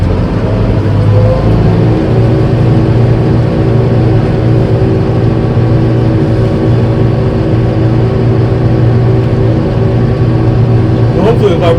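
Tractor engine running steadily in a field, a constant low drone with a strong vibrating hum that does not change for the whole stretch, loud and close.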